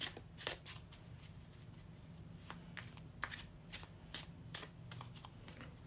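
A small tarot deck being shuffled by hand, giving repeated crisp riffling bursts and snaps over roughly six seconds against a low steady hum, close and moderately quiet.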